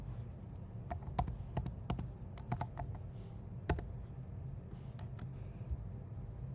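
Computer keyboard typing as figures are entered into a spreadsheet, an irregular run of sharp close clicks and key taps over a low background hum.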